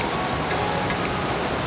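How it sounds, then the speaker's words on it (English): Water falling from above in Partnachklamm Gorge, a steady rain-like patter that is loud, close and continuous, with no talk over it. "Actually, this is the water from above which is falling down."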